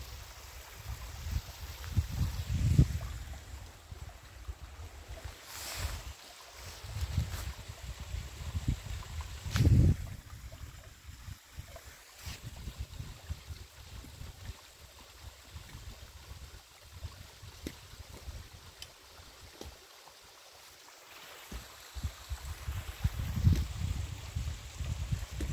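A mountain valley stream in Bukhansan National Park, swollen with spring meltwater as ice thaws, flowing with a soft, continuous rush and gurgle that swells and fades, heard alone with no talk.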